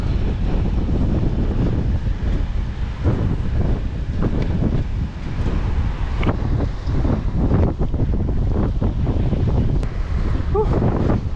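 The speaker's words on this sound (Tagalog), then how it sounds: "Lakas ng hangin." Strong wind blows hard against the microphone by the sea, a loud continuous roar with gusts, waves and surf underneath, while a voice talks intermittently over it ahead of coming rain.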